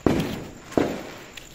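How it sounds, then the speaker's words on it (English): Test firework bursts before a New Year's Eve display at a crowded Indonesian beach: two sharp, fairly close bangs about three-quarters of a second apart, each trailing off quickly, then a faint third pop. "we could see the firework display. Not now, not really. It's just, what do you call it? It's just a tryout."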